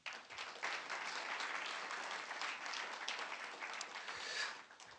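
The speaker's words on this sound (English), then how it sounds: "Please take a moment to give yourself a round of applause all around the room." Audience applause spreads around a room at a university AI launch event, steady mid-level clapping from many hands that swells slightly toward the end and then fades.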